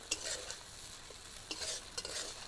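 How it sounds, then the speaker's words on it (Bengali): Masala stirred in a pan for gondhoraj katla fish curry with ground cashew paste, a soft continuous sizzle under repeated scraping strokes of a spoon, close and fairly quiet. "নাড়িয়ে নিতে হবে"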